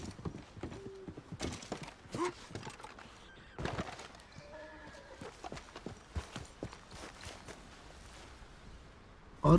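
Horse hooves clip-clopping at a slow walk close behind in a Western open-world game, with an occasional snort or whinny and faint birdsong in the background.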